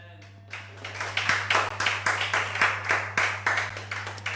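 A church congregation clapping in rhythmic unison, sharp regular claps building after a quiet start, with cheering voices and a steady low hum underneath.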